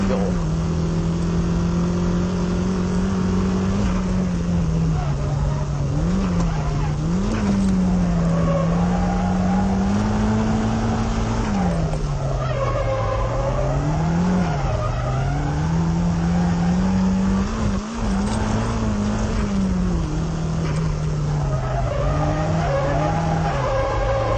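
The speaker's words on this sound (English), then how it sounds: "I'd like to demonstrate the different drifting procedures with different cars" A car drifts through a hairpin on a circuit, its engine droning and rising and falling in pitch as tires squeal continuously for over twenty seconds, loud and close with no talk over it.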